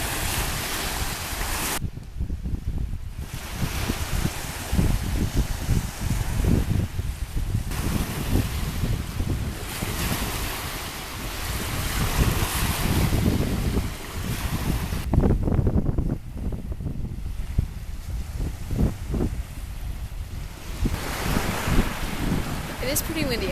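Strong wind buffets the microphone beside a lake, with waves washing in under the gusts, loud continuous rumble and roar, with a person talking briefly.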